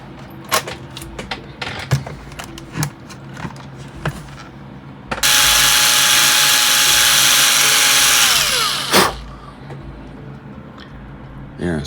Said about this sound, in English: So we're going to drill that out.